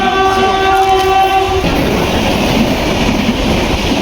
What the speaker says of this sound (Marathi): ट्रेन येणार आता माझी.